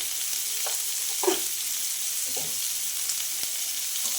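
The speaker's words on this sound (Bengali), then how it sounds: "লবণটা দিয়ে একটু ভেজে নেব আমি বেশি ভাজবো না" Jackfruit and prawns frying in a pan with salt, giving a steady soft sizzle with occasional stirring scrapes and light pops, moderately close and without talk.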